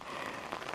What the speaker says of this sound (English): It rained for hour and a half, heavy rain.